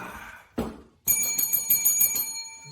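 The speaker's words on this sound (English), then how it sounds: "I think you guys deserve the booty bell." A bell rung as a show sound effect on a talk program: one short strike, then a bright sustained ring with steady high overtones that carries on loud until the end, with no talking over it.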